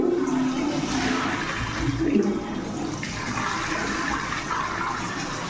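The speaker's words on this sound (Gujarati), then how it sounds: "બાથરૂમમાં ફ્લશની જગ્યાએ ફૂલ પ્રેશરથી પાણી જોતું હોય તો મેટ્રોપોલને દબાવવાનું રહેશે" A rushing surge of water pours steadily for several seconds, loud and close, as a Metropol bathroom flush valve releases its full pressure.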